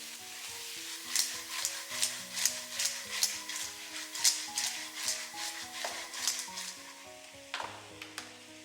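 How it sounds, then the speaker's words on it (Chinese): Clams sizzle loudly as they are stir-fried in a wok over high heat with soy sauce, pepper and a little sugar, the steady hiss broken by rhythmic scraping strokes of the spatula, about one toss per half second, with no talking. "再来点生抽，继续开大火快速翻炒均匀，让每一颗花甲都能均匀裹上一层酱汁"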